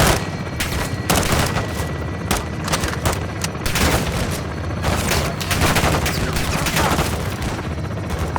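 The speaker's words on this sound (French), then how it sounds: "On essuie des tirs de mitrailleuse en bas de la tour." Machine gun fire in a shooter video game, with enemies firing from the base of a tower: loud, continuous automatic bursts and booms overlap through the whole stretch, close and dense, with no clear talk.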